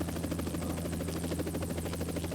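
A helicopter flies nearby, its rotor producing a steady rhythmic chopping thrum with a constant engine drone, loud and unbroken with no talk.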